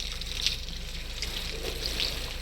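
Steady rush of running water from a shower inside a video game, a continuous broadband hiss at moderate level with no talk over it.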